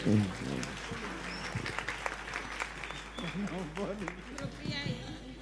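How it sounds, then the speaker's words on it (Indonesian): Audience applause for a kiai at an Indonesian religious gathering, a brief burst of clapping that fades under voices and speech throughout. "Tepuk tangan untuk beliau."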